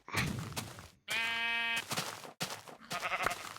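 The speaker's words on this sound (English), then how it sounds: "the sheep are the new cows. They're just so loud and obnoxious." Minecraft sheep bleating, several close, loud, drawn-out bleats in quick succession with short gaps between them.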